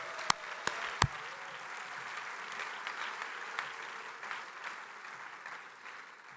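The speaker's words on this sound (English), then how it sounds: "Give them another round of applause" Audience applause at an IAC 2024 closing ceremony honouring awardees, a steady spread of clapping from a crowd with a few sharp near claps at the start, holding even and moderately loud before tapering off.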